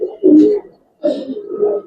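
Giribaz pigeons of a palla tournament line coo in their loft: two close, loud throaty bursts separated by a brief silence.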